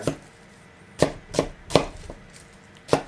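A knife chops onion on a board in a handful of sharp, separate thumps with uneven gaps, close up and clear against a quiet background.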